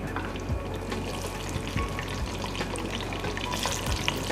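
Onions fry in hot oil with a dense, steady sizzle and occasional stirring knocks, close and fairly loud without speech over it.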